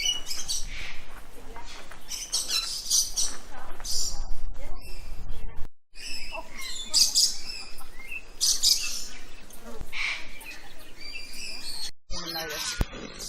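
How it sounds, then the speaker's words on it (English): Bright, high chirps of a bird come in repeated bursts under people talking nearby, with brief pauses between phrases. "I can hear a bird somewhere."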